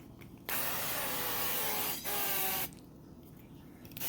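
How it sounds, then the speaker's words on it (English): Macadamia oil cooking spray is sprayed onto a pan in a home kitchen: two hissing bursts, a longer one followed after a brief break by a shorter one, both close and fairly loud against a quiet background. "I'm going to spray the pan with this macadamia spray."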